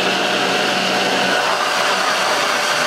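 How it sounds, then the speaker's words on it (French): A blender whirs steadily as it purées mango for a healthy Christmas yule log, a loud, continuous motor roar that eases slightly partway through, with no talking. "on va venir mixer cette merveilleuse purée de mangue"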